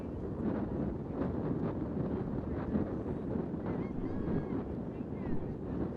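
Strong wind roars and buffets steadily at a seaside beach ultimate frisbee final, a dense, continuous rumble with distant surf, while a voice speaks faintly beneath it.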